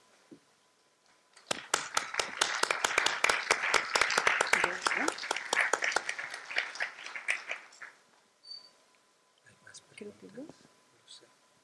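Lecture audience breaks into a burst of applause lasting several seconds, dense clapping that tapers off, followed by faint murmuring voices.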